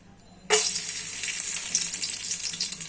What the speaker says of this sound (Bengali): তেলটা প্রায় গরম হয়ে আসছে এখন আমি মশলাগুলো দিয়ে দিব দারুচিনি এলাচ